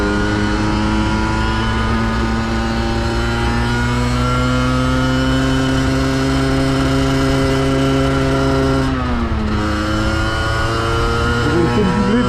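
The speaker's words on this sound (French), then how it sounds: "vous pouvez vous rendre compte que le bruit du pot est bruyant" Loud motorcycle exhaust while riding, a steady engine drone with strong harmonics that dips and climbs again as the rider changes gear, under continuous wind and road roar.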